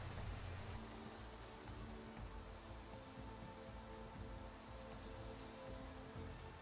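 Steady rain patters down in a horse-themed video game, a dense, even hiss of drops on the ground that carries on unbroken with a low rumbling undertone throughout.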